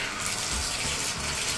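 Bathtub tap running with strong pressure, a steady full rush of water filling the tub, close and continuous with no talk.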